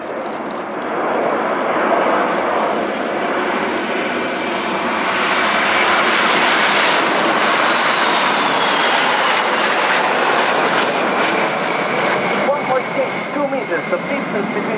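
Frecce Tricolori Aermacchi jets in a low-speed aerobatic turn with air brakes extended at an air show: a continuous loud engine roar with a rising then falling whine, under an announcer's commentary.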